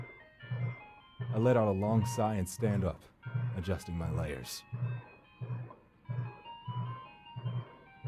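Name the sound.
approaching ghost ice cream truck playing music, audio drama effect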